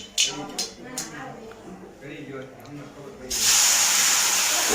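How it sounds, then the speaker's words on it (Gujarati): Mustard seeds tempering in hot oil for a Gujarati dish: quiet kitchen clatter at first, then a sudden loud, bright sizzling hiss bursts in and continues steadily to the end, close and dominant. "તો રાઈ ઓલી તતડી ગઈ છે ને તો હવે આમાં મિક્સ કરી દઈશું"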